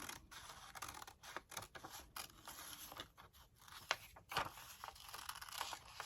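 Scissors snip through a printed photo with a series of close, crisp cuts and creaking blade sounds, uneven in rhythm with brief pauses between strokes.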